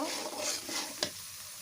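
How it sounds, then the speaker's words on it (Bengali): Beef with garam masala stirred in a pot over a clay stove, a soft sizzle running throughout with a single sharp scrape of the spoon partway through, close and quiet. "আমি এখন একটু নাড়িয়ে গোশগুলো সব উঠিয়ে দিব।"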